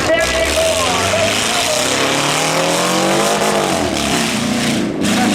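A Subaru stunt car at a speedway stunt show revs and strains while driving on a flat tire, with a rough, scraping, uneven roar from the tires and a brief dip near the end.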